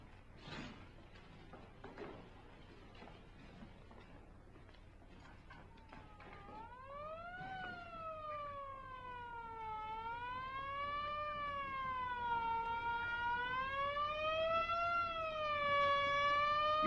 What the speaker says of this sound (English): I was just curious about that siren. Oh, an ambulance.